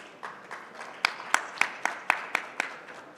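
Sparse applause at the Inclusive Finance India Awards 2024 ceremony welcomes a speaker: a handful of distinct, fairly quiet claps in a loose rhythm over a soft room background.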